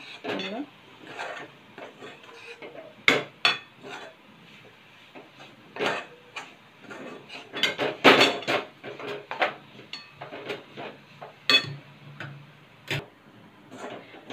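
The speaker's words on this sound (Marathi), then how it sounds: "दोन मिनिटं आपण पुन्हा परतून घेऊया।" Coconut and jaggery karanji filling with cardamom powder is stirred in a pan, with repeated scraping and clinking of a spoon against metal in an irregular rhythm, close up, with a voice talking over parts of it.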